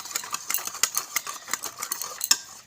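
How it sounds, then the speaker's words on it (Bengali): Eggless cake batter with Eno being stirred in a bowl, a quick series of close metal-utensil clinks and scrapes against the bowl in an uneven rhythm, with no talk. "তো ইনোটা দিয়ে আমি ভালো করে মিশিয়ে নিচ্ছি।"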